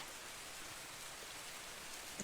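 Steady afternoon rain makes a soft, even hiss that fills the background without a break. It is faint and heard alone, with no voices.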